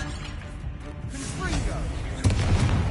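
A Confringo blasting spell goes off in Hogwarts Legacy, a booming explosion that swells late with a heavy low rumble, layered over game sounds and mixed in with talking.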